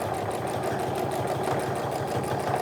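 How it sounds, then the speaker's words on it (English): A sewing machine runs steadily as it stitches a seam on a tote bag, giving a fast, even mechanical whir with a regular rhythmic pulse, close and continuous. "I'm going to go ahead and stitch until I hit that seam allowance"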